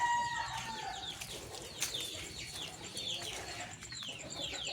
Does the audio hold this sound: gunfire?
no